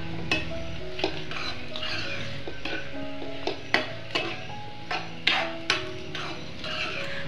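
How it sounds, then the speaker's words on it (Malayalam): Beans mezhukkupuratti being stirred in a pan after salt goes in, a soft continuous sizzle under repeated spoon scrapes and clacks against the pan, close and steady, with no voices. "എല്ലായിടത്തും ആവാൻ വേണ്ടി ഇത് നമുക്ക് നന്നായിട്ടൊന്ന് ഇളക്കി കൊടുക്കാം."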